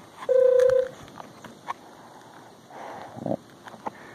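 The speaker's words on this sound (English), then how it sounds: "that was me getting a notification on my phone" A smartphone gives a short, clear electronic notification tone, loud and close, outdoors in the Leilani Estates area near a Kilauea lava flow, followed by faint footsteps and light outdoor background noise.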